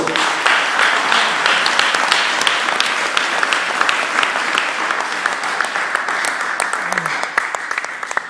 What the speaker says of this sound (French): Acclamons très fort le roi de Dieu.